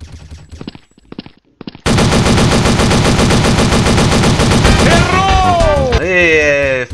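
Weapon fire in the video game Blood Strike: sparse shots give way to a sustained, very loud automatic burst lasting several seconds, with game sounds and a voice briefly over the tail.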